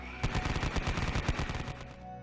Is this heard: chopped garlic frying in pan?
no